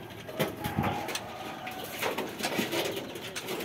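Jalali pigeons coo in a rooftop loft, soft repeated low calls close by, with scattered fluttering and rustling.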